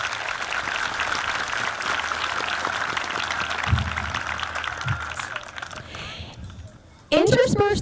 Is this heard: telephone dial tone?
no